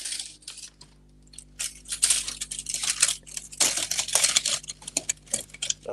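Small plastic Gunpla model kit parts click, snap and rustle close up in quick irregular bursts, crisp and fairly quiet against a hushed background.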